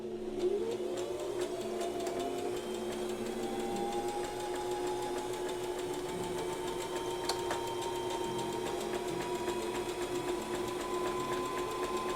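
A sewing machine stitches with its top thread tension set to 1, running in a steady, continuous whir with a fast mechanical rhythm, close and unbroken for the full stretch.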